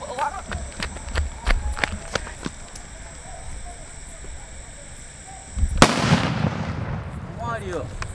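A paper bomb firecracker goes off with one loud, sharp blast that rings out and slowly fades, after a stretch of scattered lighter pops and crackles.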